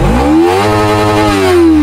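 A 2025 Kawasaki Ninja 300 motorcycle engine is held at high revs around 13,000 rpm, giving a loud, close, sustained whine that rises slightly.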